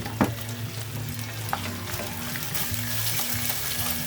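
Fried rice stirred in a hot pan, with steady sizzling and frying throughout and scraping stir strokes near and clear, no talking.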